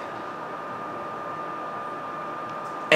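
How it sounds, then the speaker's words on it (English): A dusty PlayStation 4 console's cooling fan runs with a steady, even whir and a faint constant tone, holding level throughout before a brief louder burst at the very end. "Couple of reasons why my PS4 fan still sounds like this."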